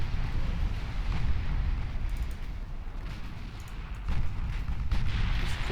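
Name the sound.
warship main guns firing, Ultimate Admiral Dreadnoughts video game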